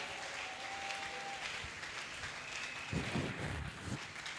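A church congregation applauding and cheering in praise of God, a steady wash of clapping from many hands that swells louder toward the end.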